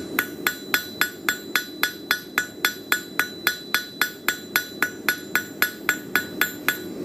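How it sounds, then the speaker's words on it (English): Rapid, evenly spaced blows of a 2-pound hand hammer ring out on metal while forging a pine cone, about three strikes per second, sharp and close with bright metallic pings. "it's probably about a 2-pound hammer that I do this with"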